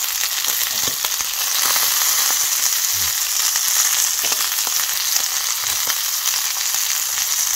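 Beef intestine (gopchang) sizzles on a grill in a steady, close, bright hiss, dotted with small crackles and pops throughout, with no talking.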